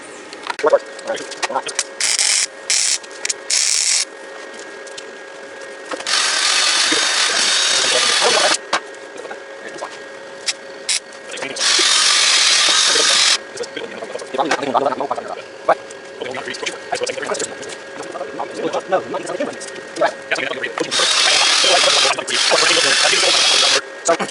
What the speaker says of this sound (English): we are gonna weld that up